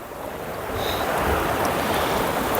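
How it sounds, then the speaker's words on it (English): Sea water surges around coastal rocks on Anglesey, a close, loud rushing swell that builds over the first second and then holds steady with wind. "Water's coming right up around me here now, guys."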